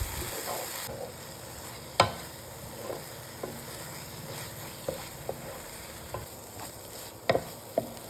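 Tomato-cashew paste for a soya egg masala sizzles quietly in the pan as it is stirred, a low continuous fry broken by intermittent scraping clicks of the spoon, with no voices.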